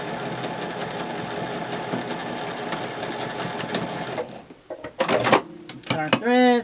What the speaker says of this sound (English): I'm just going to sew straight across. And I'm going to back stitch.